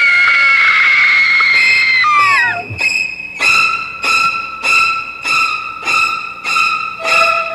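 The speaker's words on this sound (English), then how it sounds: "the screams have been especially loud around several acres of frighteningly fun countryside" Loud, shrill screaming from visitors at a countryside Halloween horror attraction, a long sustained shriek followed by a string of rhythmic repeated screams, close and piercing.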